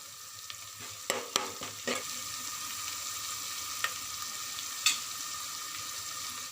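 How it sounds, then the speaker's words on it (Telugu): Ginger and turmeric frying in a pan, a bright continuous sizzle broken by several sharp spatula clicks and scrapes close by, with no talking. "ఈ అల్లాన్ని పచ్చివాసన పోయే వరకు వేయించుకోవాలి. ఇప్పుడు 1/2 స్పూన్ పసుపు వేసుకుందాం."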